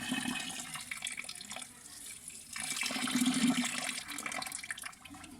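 Dirty water drains out of a Royal Enfield Bullet 350 fuel tank, a close running trickle and gurgle that swells into a fuller flow midway, fairly quiet and steady.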